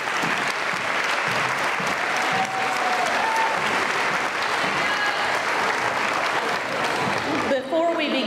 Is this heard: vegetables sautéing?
no